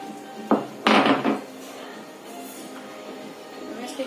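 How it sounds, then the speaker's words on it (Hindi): Three cardamom pods are crushed in a small mortar: a sharp knock, then a quick burst of grinding pounds, followed by quiet kitchen room tone. "तीन इलायची को इसमें कूट के डालूंगी"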